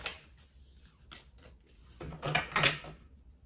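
Oracle cards being shuffled by hand: soft, papery riffles and slides in short bursts, quiet at first and growing louder and denser near the end, with no one speaking.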